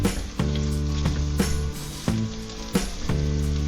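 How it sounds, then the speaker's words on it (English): One small onion chopped into little pieces sizzles loudly in hot oil, a constant close frying hiss with a few sharp spikes from stirring. "I'm going to cook up one small onion that I just chopped into little pieces. So I'm adding that to the hot oil."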